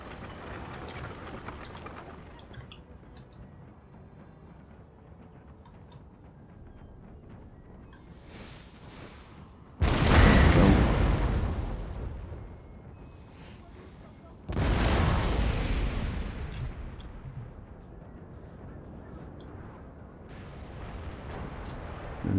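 Artillery fire in the video game Napoleon: Total War, with two loud, close booms about four seconds apart, each trailing off in a long rumble, set against faint battle noise and someone talking.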